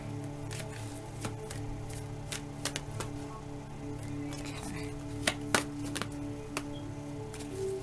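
A deck of cards being shuffled by hand: a series of short crisp riffling clicks and snaps, scattered irregularly over a steady low background hum, with no talking.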